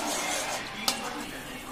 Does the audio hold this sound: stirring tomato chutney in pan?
yes